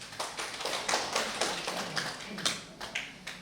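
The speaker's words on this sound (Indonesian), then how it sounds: "Mungkin bisa tepuk tangan untuk semuanya ya" A small audience at an arisan gathering and women's association (DWP BPKPAD) seminar claps together, dense overlapping hand claps in a steady patter close by, with no talk over them.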